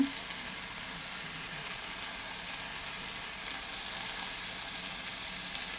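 Loti (taro stolon) curry cooks in mustard oil with salt and a little sugar, producing a steady, even sizzle that stays moderately quiet and unbroken for several seconds.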